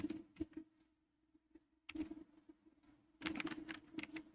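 Fingers tap out words on a computer keyboard during Python chatbot coding, close and fairly quiet, in irregular bursts of clicky keystrokes separated by short pauses.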